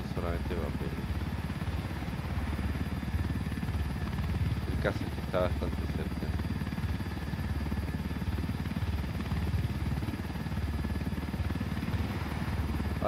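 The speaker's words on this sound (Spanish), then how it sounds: "Ahora tengo que buscar un sitio donde dejar el helicóptero y que no se rompa" A helicopter in the video game Tom Clancy's Ghost Recon Wildlands gives a steady, continuous rotor and engine rumble throughout, with a few brief game sounds and someone talking over it.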